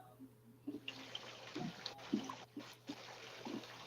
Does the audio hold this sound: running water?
yes